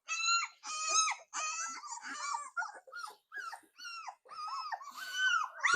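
Labrador Retriever puppies whimpering and yipping during their first bath, a run of high, wavering cries in close succession, loud and near with short gaps between them.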